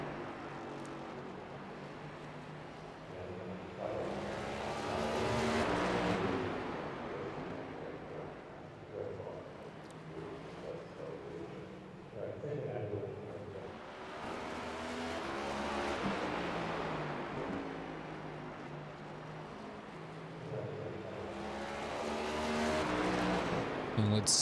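A race car in a racing video game lapping Concord Speedway, its engine swelling and fading as it passes three times, a moderate steady drone between passes.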